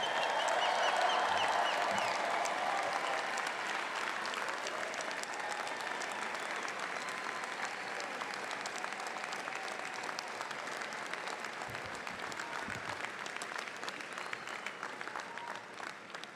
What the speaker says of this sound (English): Why don't you join me again for a serious round of applause for the class of 2013.